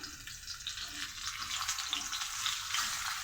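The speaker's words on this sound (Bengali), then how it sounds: "এই মাছের মাথা দুটোকে ভাজা বসিয়ে দিয়ে যায়" Two fish heads frying in a wok, a continuous busy sizzle and crackle of hot oil with occasional sharper pops, close and steady, no talk.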